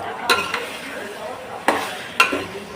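Mushrooms and vegetables with salt sauté in a pan for biryani, giving a low steady sizzle broken by four sharp metallic clinks of a utensil striking the pan, with no voices.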